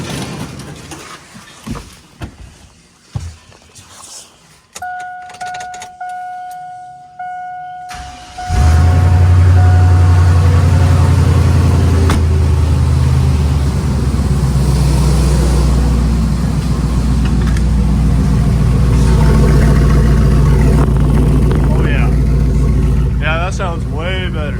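An old car's engine cranks and fires up after a fresh exhaust weld, then settles into a loud, steady, deep running rumble close by, with a voice speaking over it.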